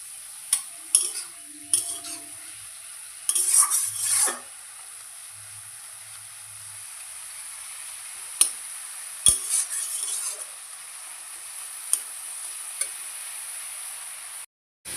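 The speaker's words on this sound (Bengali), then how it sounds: "এবার হাই ফ্লেমে দিয়ে ঢাকনা না দিয়ে এটা ভাজবো, জলটা পুরো টেনে যাবে" Leafy greens (shak) fry uncovered over a high flame in a pan, a steady close sizzle broken by a few scraping stirs and sharp utensil clinks against the metal.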